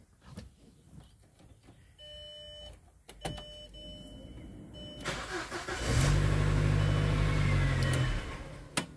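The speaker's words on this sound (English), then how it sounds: "Fires right up." A VW or Audi engine cranks and fires up after a crankshaft (engine speed) sensor replacement, with a loud starter whir settling into a steady idle roar that follows a few clicks and clunks inside the car.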